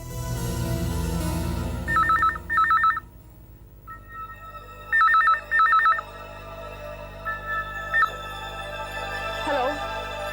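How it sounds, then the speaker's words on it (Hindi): A telephone bell rings indoors in a horror drama scene, coming in repeated double bursts of trilling rings over a music bed, then falling quiet. "फोन की घंटी बज रही है।"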